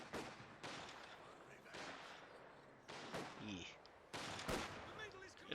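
An MG42 machine gun fires in Company of Heroes 2 while Panzer Grenadiers come under suppression, with several rattling bursts separated by pauses. The shots sit at low level in a busy battle mix, and a commentator talks over them.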